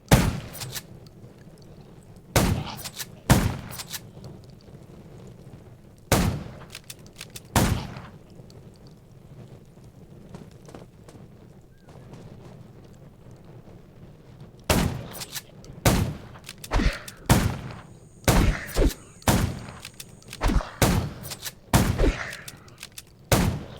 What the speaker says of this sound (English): Gunshots will attract more.